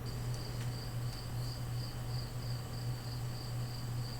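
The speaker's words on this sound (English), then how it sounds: "put some crickets or something to handle that awkward silence" Steady cricket chirping fills the whole stretch, a continuous pulsing trill over a low constant hum, with no voices, standing in for an awkward silence.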